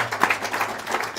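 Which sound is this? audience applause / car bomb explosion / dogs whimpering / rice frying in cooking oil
audience applause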